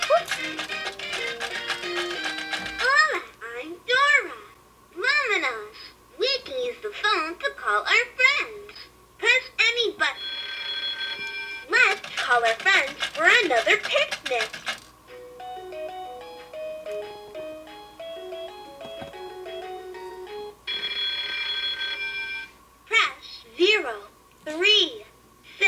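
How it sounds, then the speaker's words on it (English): Dora the Explorer toy playphone being switched on, giving out bright electronic melodies, synthesized ringing tones and a recorded child-like character voice in short bursts, with quieter gaps between the segments. "to turn this phone on, you press this button here that says on,"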